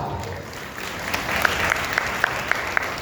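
Clapping from an audience at a Jain chaturmas kalash sthapana ceremony in Balaghat: sustained background applause with several sharp, distinct claps standing out near the end, and a low hum of crowd noise.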